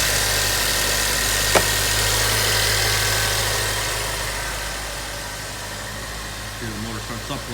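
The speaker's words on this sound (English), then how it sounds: "Here the motor starts up, runs just straight." A 2017 Land Rover Discovery Sport 2.0-liter engine runs at a steady idle, a low, even hum throughout with a faint tick near the start and a little background noise toward the end.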